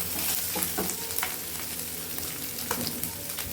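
Goat liver fries in a pan with pepper powder over a low flame, giving a steady close sizzle with crackling pops and brief stirring scrapes throughout, and no talk.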